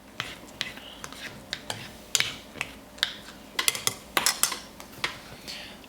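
A utensil stirs a Latvian military ration of peas with smoked pork, making irregular close clicks and scrapes against the pouch, quiet between the sharper taps.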